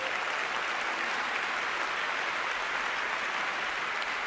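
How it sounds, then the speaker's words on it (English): An audience at the 27th Annual Webby Awards applauds, a continuous, even roar of many hands clapping at steady volume for the whole stretch, with no talking over it. "Please give yourselves a round of applause."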